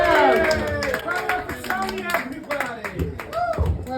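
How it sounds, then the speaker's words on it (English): An open mic comedy audience in New York City claps for the opening comedian, scattered hand claps from a small crowd heard under a host's amplified talking. "now let's clap it up for opener for tonight"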